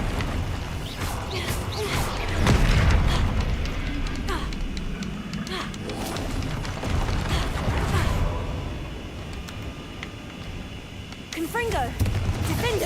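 Spell blasts and explosions rumble on without a break in the Hogwarts Legacy video game, with whooshing bursts and crackling impacts layered together and a voice loudly calling out spell names throughout.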